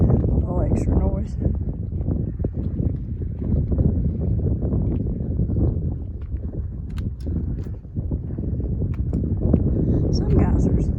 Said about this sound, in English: Wind is picking up, and I do not have a wind buffer, so I'm sorry if the little extra noise.